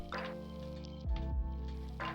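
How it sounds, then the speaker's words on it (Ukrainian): Water poured into a container over sliced raw potatoes in a home kitchen, a short close splash and trickle with a few drips. "Далі перекладаємо наші скибочки картоплі у зручну ємність та заливаємо водою"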